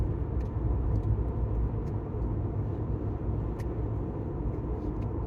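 A car cruises at about 45 mph on a quiet four-lane Texas road in the Rio Grande Valley, its steady broadband road and engine rumble continuous and close, with no talk.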